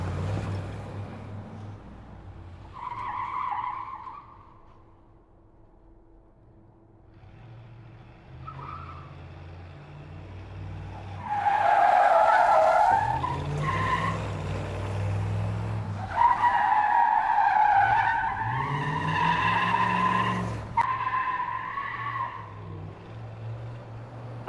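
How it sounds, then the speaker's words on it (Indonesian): A car in the Sakura School Simulator video game revs hard and skids, with loud engine surges and tire squeals rising in bursts after a quieter start, continuing alone without any talk. "Gas terus mobilnya, Rina."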